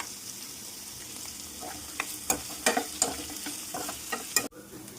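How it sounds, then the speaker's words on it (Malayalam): Curry leaves, green chili, shallots and salt sauté in a hot pan for a pork roast, a steady sizzle broken by several sharp stirring scrapes and clinks, close and without talk. "ഇതിലേക്ക് വീണ്ടും കുറച്ച് കറിവേപ്പില, പച്ചമുളക്, ചെറിയുള്ളി, അല്പം ഉപ്പിട്ട് പെട്ടെന്നൊന്ന് വഴറ്റിയെടുക്കാം"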